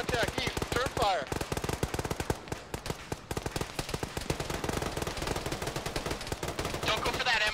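Rapid automatic gunfire in the ShackTac military video game, dense bursts of machine-gun rounds rattling nonstop and loud throughout, with a brief lull near the one-second mark.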